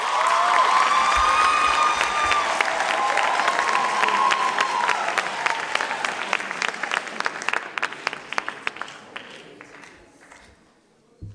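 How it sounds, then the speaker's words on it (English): A school audience at a high school sports awards ceremony applauds teachers and parents with loud, full clapping mixed with cheers and whoops early on, gradually thinning into scattered individual claps before falling silent. "give our teachers and parents a big round of applause"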